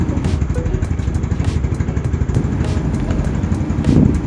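A Yamaha Mio Sporty scooter fitted with a PE 24 carburetor revs loudly up close, its engine rising and dropping in repeated throttle blips over a rattling idle.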